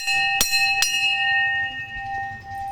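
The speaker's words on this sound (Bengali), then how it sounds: "ঘন্টাটা বাজিয়ে নিই।" A temple bell struck twice in quick succession at a Bajrangbali shrine, each clang bright and metallic, then a long ringing tone that slowly fades.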